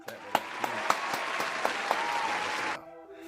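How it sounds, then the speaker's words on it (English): A small group claps at the opening of a show, loud and close, with a few distinct sharp claps over a steady patter that stops abruptly near the end. "Come on, clap it up, clap"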